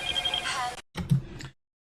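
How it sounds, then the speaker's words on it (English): A telephone ringing in two short bursts separated by a brief silence, fairly close and moderately loud, then cutting off. "I know it was a phone"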